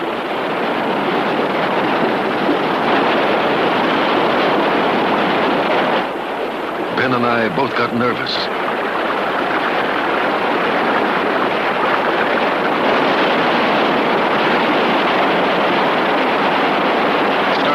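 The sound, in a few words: river rapids, rushing white water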